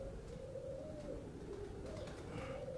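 Pigeons coo steadily on a rooftop loft in Faisalabad, a low, continuous warbling murmur that holds through the whole stretch at moderate distance, with no voices over it.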